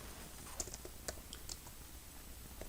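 Light keystrokes on a computer keyboard while a date is entered into a spreadsheet, a handful of soft, irregular clicks, quiet and close, with no voice.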